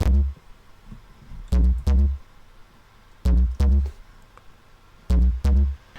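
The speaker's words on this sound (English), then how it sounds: "So when it comes to the bass synth, it kind of sounds like this." A simple bass synth line built in FL Studio with the Citrus preset, deep punchy notes played in pairs with gaps between, loud and alone.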